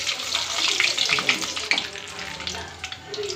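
Mustard seeds crackle and spit in hot oil in a pan while murungai poo poriyal is cooked, a dense, steady sizzle with rapid scattered pops close by.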